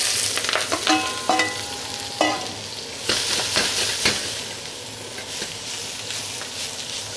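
Green onion, celery and red onion stir-fry in a wok for fried noodles: loud sizzling under repeated metal clanks and scrapes of a spatula, busiest early and settling into a steady hiss.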